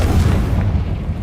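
Confringo fire spell from Hogwarts Legacy going off as a short, heavy, booming blast that rumbles for about a second, with no talk.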